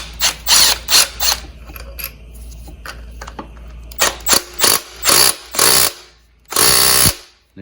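A hand ratchet works loose 12mm tensioner bolts on a 3.4 L Toyota 4Runner engine, loud close bursts of rapid clicking in a series of short strokes separated by pauses, with no talk.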